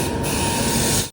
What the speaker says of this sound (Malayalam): 3:45 കണ്ണൂരേക്ക് പോകാനുള്ള തിരുവനന്തപുരം എക്സ്പ്രസ് ഇതാ കടന്നു വരികയാണ്.